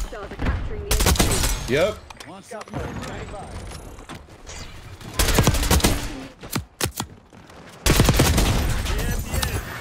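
Bursts of AK74 automatic fire in Black Ops 6 multiplayer, loud, close and rapid, with dense rattling volleys, short gaps and scattered single shots, plus a brief spoken word.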